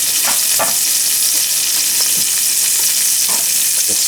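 Speck, shallots and garlic sizzling in a hot saute pan, a loud constant frying hiss with occasional spoon scrapes and stirs scattered through, no voices.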